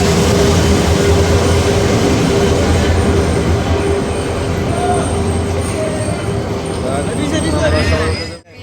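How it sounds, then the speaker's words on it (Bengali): Udayan Express, a Sylhet-bound passenger train in Bangladesh, arrives with a loud, continuous rumble of wheels on rails and a thin, high squeal running over it, fading out at the end. "এই যে সেই উদয়ন এক্সপ্রেস সিলেটগামী"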